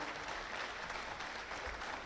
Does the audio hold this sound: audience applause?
yes